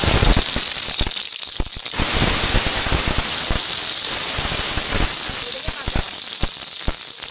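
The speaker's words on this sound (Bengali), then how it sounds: "জিরাটা ফুটে এলেই দিয়ে দেবো পেঁয়াজ আর টমেটো" Cumin seeds, then onions and tomatoes, frying in hot oil in a wok: a dense, continuous crackling sizzle with sharp pops throughout, loud and close.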